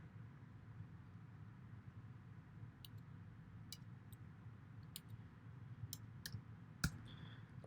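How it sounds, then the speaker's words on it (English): Sharp, quiet clicks of a computer mouse, each one short and distinct, come at irregular intervals over a steady low room hum as someone works in a web portal. "Okay, I'm clicking on verify code."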